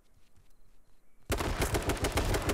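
Rapid gunfire from a shooting video game bursts in suddenly after a quiet stretch, a loud continuous automatic volley with no voices.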